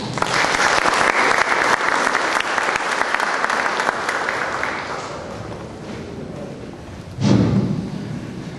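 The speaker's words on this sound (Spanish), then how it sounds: "Recibimos con un fuerte aplauso al doctor José Alfredo Díaz Vallejo." Audience at an evening law lecture giving loud, sustained applause to welcome a doctor to the podium, the clapping dense and steady before tapering off, with a brief thump near the end.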